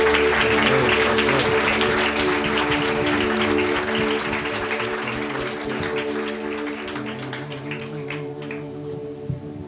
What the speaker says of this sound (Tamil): இயேசுவின் நாமத்தில் கைத்தட்டி அவரை மகிமைப்படுத்த